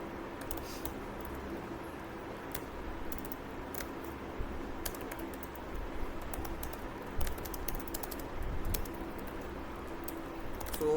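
Faint, irregular clicks of a computer keyboard as code is typed, soft taps scattered over a steady low hum with no talking.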